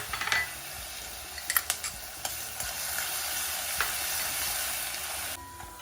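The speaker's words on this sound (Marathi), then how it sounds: "ते शेंगदाणे तळायचे आहेत" Peanuts frying in hot oil alongside cumin, curry leaves, and asafoetida in a pan for Khandeshi brinjal bharit, a steady crackling sizzle with clinks and stirring scrapes throughout.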